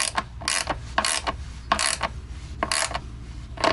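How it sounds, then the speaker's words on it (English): A hand ratchet tightens the bolts of an RV toilet, its pawl clicking in quick bursts as the handle swings back and forth in an even rhythm, close and loud. "Just moving back and forth between the two, tightening equally."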